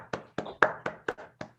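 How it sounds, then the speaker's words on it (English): Six slow, evenly spaced hand claps from a single person at an online Toastmasters club meeting, sharp and close, about four per second, with no voices. "let's continue with a round of applause."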